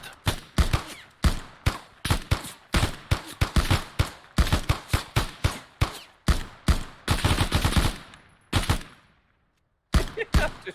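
Loud, sharp video game gunshots during sniper training, fired in quick rhythmic bursts of separate cracks, then a short pause of silence before a few more shots near the end.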